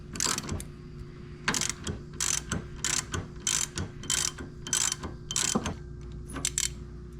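A ratchet wrench clicks in quick repeated bursts on 17 mm sway bar end link nuts under a Jeep Cherokee XJ, the close metallic ratcheting strokes coming in a steady rhythm with short pauses between, no talking.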